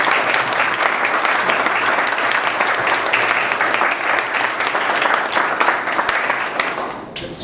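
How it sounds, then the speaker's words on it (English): An audience claps for two debate teams at an evening debate event, a dense, steady round of applause lasting several seconds before thinning out at the end. "if I could just ask everybody to give both teams a round of applause"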